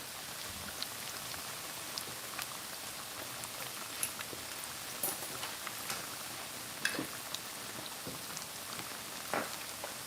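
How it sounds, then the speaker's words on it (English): Food sizzling in a pan as curry is cooked at home, a steady rain-like crackle with scattered sharper pops and spits throughout, fairly close and without talk over it. "there's nothing more calming than the sound of something frying"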